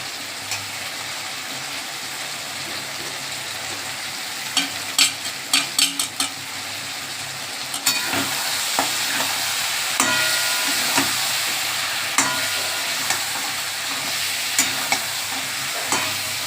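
Spice masala with added Maggi masala fries and is stirred in a pan for a prawn curry with potato and pumpkin: a steady close sizzle with a burst of sharp spoon scrapes and clicks midway, then continued frying and occasional stirring taps.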